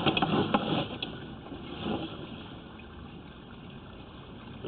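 Water runs steadily down a tiled surface as a soft, continuous wash with a few small splashy bursts at the start, close by and alone with no voices.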